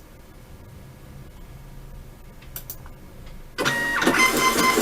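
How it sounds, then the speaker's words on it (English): A Toshiba BFV4T thermal transfer label printer runs a batch of labels, starting abruptly after quiet room tone as a loud, steady mechanical whir and feed noise that continues to the end. "this would be an image of the printer printing 12 labels"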